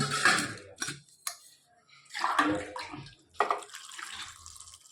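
Water is poured into a pot over six or seven whole garlic bulbs, heard as a few separate close splashing bursts with quiet gaps between them.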